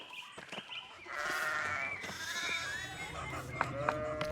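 Sheep bleat repeatedly around an abbey in the video game Pentiment, several wavering calls overlapping close by over a busy ambient background.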